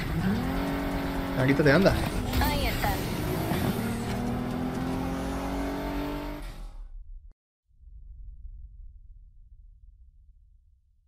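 A car engine races and revs loudly in the Need for Speed Heat video game, with screeching tyres and gear shifts under a person talking, then cuts out abruptly near the end, leaving only faint low noise.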